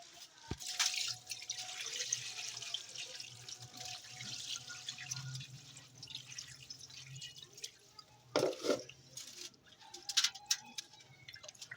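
Fish pieces being rinsed under a running kitchen tap for frying, a steady hiss of flowing water with splashes and a few louder gushes and drips, nearby and without speech.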